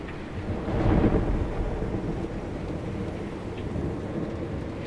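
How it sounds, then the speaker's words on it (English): Steady roar of heavy rain and wind in a thunderstorm from the video game Pacific Drive, with a deep rumble of thunder swelling early, then a continuous wash of downpour with no voices. "Yeah, that storm is not kidding me."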